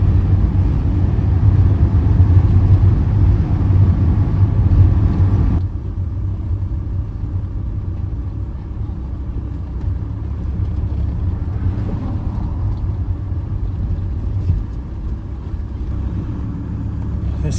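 Road traffic along a busy street, a loud continuous low engine rumble with cars driving past, dropping to a quieter hum partway through, with no speech.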